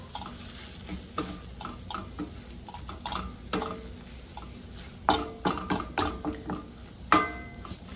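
Chicken pieces tossed with taco seasoning in a hot pan, with stirring scrapes and a soft sizzle, and occasional utensil clinks sharpening toward the end. No one speaks.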